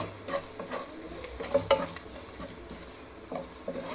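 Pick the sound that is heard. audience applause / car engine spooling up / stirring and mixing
stirring and mixing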